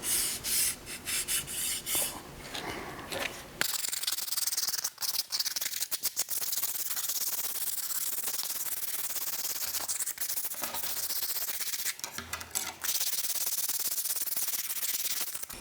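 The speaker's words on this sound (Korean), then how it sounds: "240방 사포로 조금 더 부드럽게 다듬어주면 됩니다" Sandpaper of 240 grit rubbing over a small wooden notebook, a steady dry rasping with short strokes, close and fairly loud, no voices.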